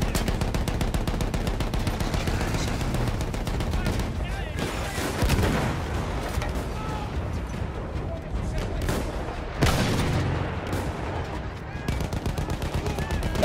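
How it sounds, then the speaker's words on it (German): Battlefield 1 machine gun fire rattles in rapid continuous bursts, loud and close, with heavier blasts and booms mixed in across a chaotic battlefield. "Diese MGs halten unsere Jungs auf."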